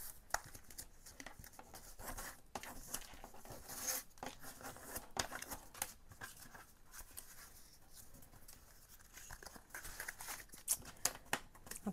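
Paper being folded by hand while altering a Little Golden Book, a quiet, close stretch of dry crinkling, rubbing and creasing with a few sharper crackles scattered throughout, no talking.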